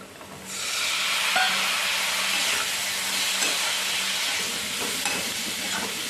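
Boiled amaranth stems hit a hot pan seasoned with red chilli powder, setting off a loud, steady broadband sizzle and hiss that rises sharply after a quiet start and carries on unbroken, with faint stirring clicks toward the end.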